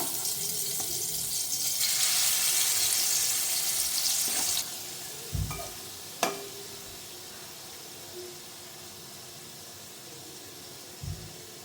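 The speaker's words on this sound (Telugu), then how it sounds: "ఆయిల్ హీట్ అయ్యాక ఈ పన్నీర్ని మనం కొంచెం అటు ఇటు రోస్ట్ చేసుకుందాం" Paneer roasts in hot oil in a pot for paneer pulao, a broad sizzling hiss for the first few seconds that then drops away, followed by scattered clinks and thumps of a utensil.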